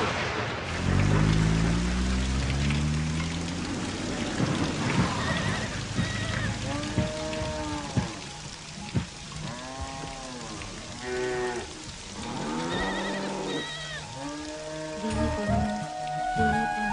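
Rain falls steadily in a continuous wash with a deep low rumble at the start, while people talk over it for most of the time.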